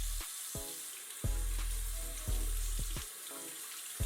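Water runs steadily from a bathroom sink tap, a continuous hiss broken by several sharp clicks and knocks from handling at the basin, close and fairly quiet.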